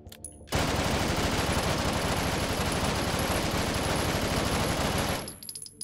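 A PPSh Modern submachine gun fires one sustained burst of about five seconds in the virtual reality game Hot Dogs, Horseshoes & Hand Grenades, loud and dense, with short quiet gaps before and after.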